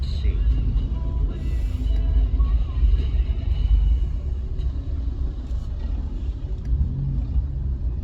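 Steady low engine rumble from inside a car stuck in heavy traffic, continuous and fairly loud throughout, with people talking quietly over it.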